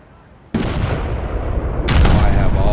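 British 74-gun ships of the line firing chain shot in a Napoleon: Total War naval battle: a sudden burst of heavy cannon fire, then a continuous rumbling barrage that swells louder near the end.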